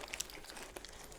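Paper wrapper around a cheesesteak sandwich crinkling up close, quiet and brief with a few sharp rustles over about a second, no talk over it.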